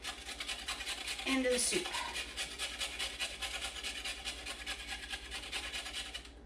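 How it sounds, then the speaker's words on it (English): Carrots being grated on a cheese grater make a quick rhythmic rasping scrape, close but soft, with a voice briefly talking over it. "I'm going to take my carrots and cheese grate them"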